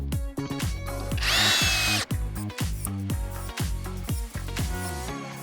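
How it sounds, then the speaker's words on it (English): A cordless screwdriver drives screws into wood in a fast series of short, close whirring bursts, the motor pitch dropping as each screw seats, with one longer high-pitched run near the start. "Driving 10 screws took only 30 seconds and the tool handles the task extremely well."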